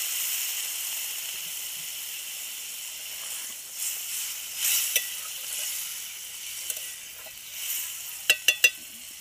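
Water poured into frying chicken-trimmings and soybean masala in a pan, a steady hiss and sizzle that swells as it bubbles, ending in a few sharp clicks of a spoon on the pan.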